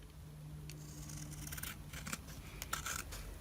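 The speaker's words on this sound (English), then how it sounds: "I'm just cutting into that green cardstock" Scissors snip into green cardstock while shaping card layers, giving faint, close, irregular cutting and rubbing sounds over a low steady hum.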